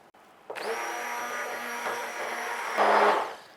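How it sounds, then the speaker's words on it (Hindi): A kitchen blender whirs steadily for a few seconds while blending custard for a dessert, close and fairly loud, the motor pitch rising briefly near the end before stopping. "तब तक हम कस्टर्ड को भी थोड़ा सा ब्लेंड कर लेते हैं।"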